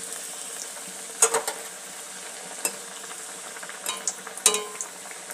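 Semolina pitha fry in hot white oil with a soft, continuous bubbling sizzle. Occasional sharp crackles and spits pop out as the cakes puff up and float.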